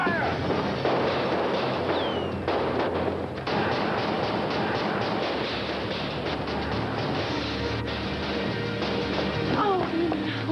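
Gunfire from a shootout in a TV soap drama, sustained loud bursts and cracks over a dense, noisy background, with shouting voices mixed in.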